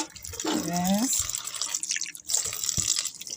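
Tap water runs into a sink while cucumbers are washed, a steady splashing stream with drips, heard close beside a brief spoken word.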